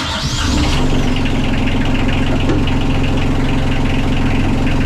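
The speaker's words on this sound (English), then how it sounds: "And I can hear the engine exhaust pissing." A marine diesel engine on a sailboat cranks and catches after its cooling water is primed, then settles into a loud, steady knocking idle that continues without a break.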